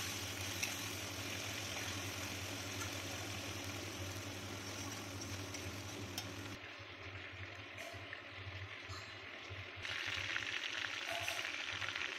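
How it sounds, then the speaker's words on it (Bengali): Sliced onions fry in hot oil with dried chilli, cumin and bay leaf after prawns have been fried for a Bengali potol chingri dish, giving a steady near sizzle that eases midway and rises again near the end. "সেই তেলের মধ্যে শুকনো লঙ্কা, জিরে, তেজপাতা ফোড়ন দিয়ে পেঁয়াজ লম্বা লম্বা করে কেটে রেখেছিলাম সেইগুলোও দিয়ে ভালোভাবে ভেজে নিচ্ছি"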